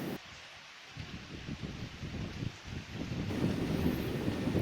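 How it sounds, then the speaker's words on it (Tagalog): Fresh breeze rustling the leaves of trees in a rural province, a soft continuous hiss that swells gradually louder toward the end, heard outdoors with no talking. "ang sarap ng hangin na preskong hangin ang dumadapo sa atin ngayon"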